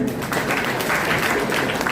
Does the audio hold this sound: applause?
yes